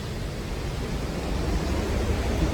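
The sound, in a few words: Beaver River water flowing loudly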